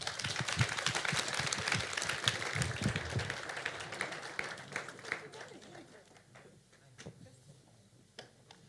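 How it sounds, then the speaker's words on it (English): A room full of people at a sports conference claps after a presentation, a dense patter of applause that gradually thins out into scattered individual claps. "Once again, please give applause."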